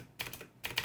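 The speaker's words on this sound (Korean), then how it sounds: "이 키보드는 스테빌라이저의 느낌, 소리 들어보세요" XPG Infarex K20 mechanical keyboard with blue switches, spacebar stabilizer being pressed: two separate pairs of crisp keystrokes, quiet and close, with short gaps of near silence between them.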